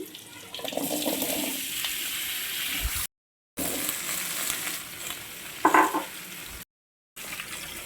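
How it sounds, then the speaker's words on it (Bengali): Cut papaya pieces dropped into hot oil for a papaya, potato and prawn dish, giving a steady close sizzle with stirring scrapes, two abrupt silent gaps and a brief louder clatter near the end. "তেলটা গরম হয়ে এসছে এবার আমি কেটে রাখা পেঁপেগুলো দিয়ে দিচ্ছি"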